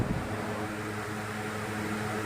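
A Symphony Sumo 75 XL air cooler runs with a steady, moderate fan whoosh and a faint low hum, constant throughout with no talking.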